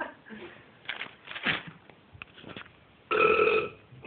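Loud burps ring out during a casual burping competition between two friends, several short bursts followed by one long, strong belch near the end, with no talking over them.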